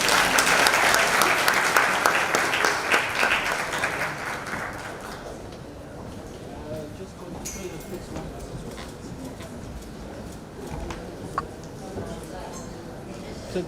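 An audience applauds a Deputy Minister at a G20 symposium, loud, dense clapping for about four seconds that then thins and fades into quieter room noise with scattered claps and murmurs.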